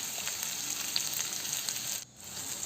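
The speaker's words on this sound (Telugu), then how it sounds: "ఆనియన్స్ వేసి ఫ్రై చేసేసుకుందాం" Onions frying for jackfruit curry, a steady close hiss and crackle of sizzling in a hot pan with cumin, broken by a brief drop in the sizzle near the end.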